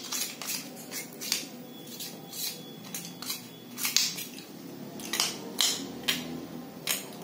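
A metal spoon scrapes sticky sesame and jaggery mix out of a kadhai and a slotted ladle, giving a series of short, bright scraping and clinking strokes in a steady, irregular rhythm, close and fairly quiet, with no talking.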